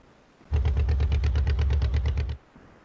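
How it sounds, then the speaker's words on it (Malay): A GarageBand motorboat engine effect plays as a burst of rapid, rumbling putters for about two seconds, loud and low, then cuts off abruptly; no speech over it. "Macam bunyi enjin motorbot."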